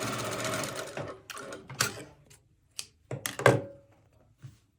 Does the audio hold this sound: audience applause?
no